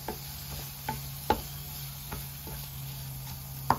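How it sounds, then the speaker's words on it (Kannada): Chopped boiled egg being stirred into a pan with turmeric and salt for an egg burger filling, a few light spoon taps and scrapes over a steady low sizzle, close and without speech. "ಇನ್ನು ಇದಕ್ಕೆ ಕಟ್ ಮಾಡಿಕೊಂಡ ಮೊಟ್ಟೆಯನ್ನು ಹಾಕ್ಕೊಳ್ಳುವ. ಚೆನ್ನಾಗಿ ಮಿಕ್ಸ್ ಮಾಡಿಕೊಳ್ಳೋಣ."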